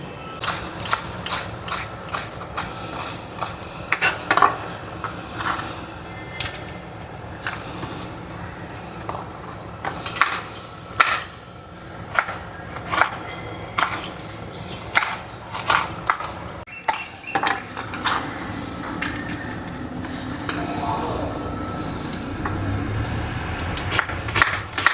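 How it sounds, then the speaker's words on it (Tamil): Knife finely chopping peeled ridge gourd on a board, a run of quick, sharp, close taps in bursts with short pauses, no talking. "இதெல்லாம் பொடிசாக கட் பண்ணிக்கலாம்."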